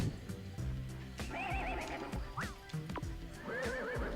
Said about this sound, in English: so you can make it sound like a horse